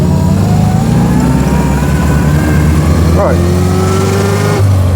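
Engine of a 1924 Austin Seven driving on a road, a close, constant low drone with shifting revs and a brief gear-change dip, under someone speaking briefly.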